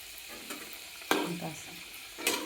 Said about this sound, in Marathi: आता आपण दुसरेही टाकून घेऊया असे तेलामध्ये. बघा खरपूस चांगले भाजतात.